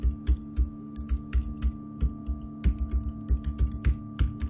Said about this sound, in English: dead silence reigned in the building, broken only by the sound of her keyboard.